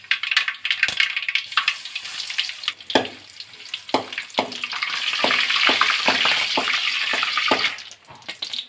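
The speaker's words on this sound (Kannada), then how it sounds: "ಎಣ್ಣೆ ಬಿಸಿ ಆಯ್ತಲ್ಲ, ಈಗ ಸಾಸಿವೆ ಹಾಕ್ಕೊಳ್ಳೋಣ" Mustard seeds and crushed garlic sizzle loudly in hot oil in a pan, a steady crackling fry punctuated by sharp pops and spoon scrapes.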